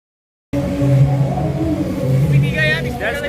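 A motor vehicle's engine runs nearby with a steady low hum and slight revving at a festival night outing, while several people talk over it.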